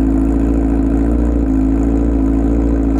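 A Honda CBR1000RR Repsol Edition motorcycle engine idles steadily and loudly up close while warming up, a constant low rumble with no talking.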